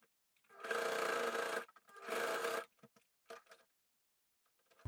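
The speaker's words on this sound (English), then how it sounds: "After doing a straight stitch on both sides, I also did a zigzag stitch on the raw edge so that it's secure." Sewing machine running a zigzag stitch along a raw fabric edge, two sustained bursts of steady whirring followed by a few brief clicks and handling sounds.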